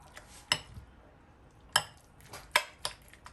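Canned tuna stirred with mayo, hot sauce and salt in a bowl, a few sharp utensil clinks against the dish spaced out irregularly, close and alone.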